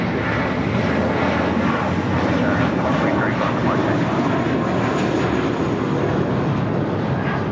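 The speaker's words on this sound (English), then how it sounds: "This is Spirit Airlines 2330 taking off to Baltimore on an A320" A Spirit Airlines A320 takes off on its way to Baltimore, heard as a loud, constant broadband jet roar that fills the whole stretch.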